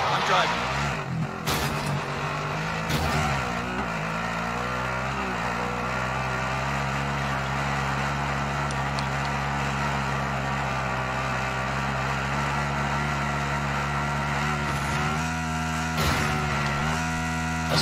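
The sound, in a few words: vehicle driving in video game COD Warzone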